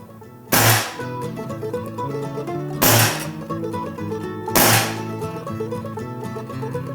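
A Beeman HW97 underlever spring-piston air rifle fires three times at an even pace, each shot a sharp crack with a brief thump, close and loud over steady background music.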